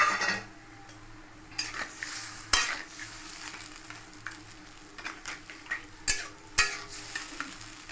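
Fried fish head being stirred into muri ghonto in a pan, a low sizzle with intermittent spoon scrapes and metallic knocks against the pan, close and quiet.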